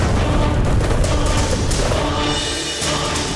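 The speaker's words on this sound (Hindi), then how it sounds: "वहां रखे समस्त दिव्य शस्त्र भयानक विस्फोट में भस्म हो गए" A loud, rumbling blast and roaring fire fill the scene as the armory of Lanka explodes, dense and sustained with crackling bursts throughout.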